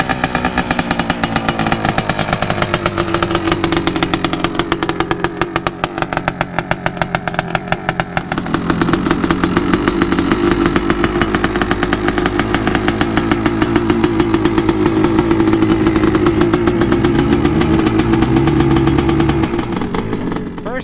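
A Yamaha Raptor 700 ATV ridden on dirt, its engine a loud, steady, buzzing drone close by that climbs in pitch and strength about midway and holds high through most of the stretch.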